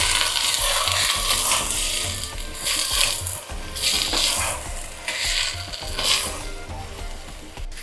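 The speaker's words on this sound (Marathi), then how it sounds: "आता व्यवस्थित मिक्स करायची" Taro leaves with chana dal are stirred in a pot with repeated scraping and sizzling, steady and close, with no voices.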